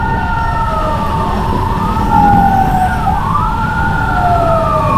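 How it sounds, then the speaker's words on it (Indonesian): A fire truck on a Jakarta road sounds its wailing siren nearby, the rising and falling tones sweeping over a continuous engine rumble and road noise. "mobil penyemprot air untuk memadamkan api"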